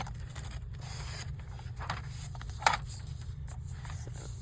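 Scissors cutting paper for a journal kit, a series of soft, short scraping snips close by with one sharper crisp cut near the middle, no voices.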